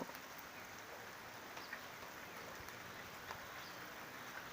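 Steady light rain patters continuously on surfaces, a soft even hiss with occasional faint drops standing out.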